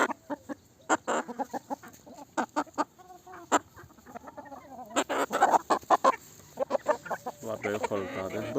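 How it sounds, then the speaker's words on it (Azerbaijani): Roosters and hens clucking and squawking close by on a farm, in busy overlapping bursts with a brief crow-like call partway through, loud and continuous, with a person talking lightly among the birds. "Bunlar böyük xoruzlardır."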